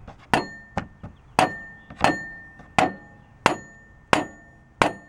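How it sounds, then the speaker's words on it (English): A rubber hammer taps a snap ring onto the clutch coil area of a Honda Odyssey air conditioner compressor housing, about eight close, evenly spaced knocks with a slight metallic ring and no voices. "just take a rubber hammer and tap it on there"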